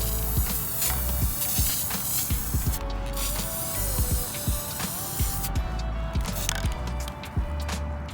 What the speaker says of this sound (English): I'm just gonna take my oil rubbed bronze spray paint